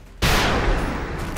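A single loud gunshot fired in the video game XCOM, a sharp blast after a brief quiet moment, followed by a sustained rumbling tail that slowly fades.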